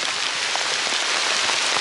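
Heavy rain pouring down under mango trees, a dense, loud, steady hiss of drops hitting leaves and ground close by, with no talking.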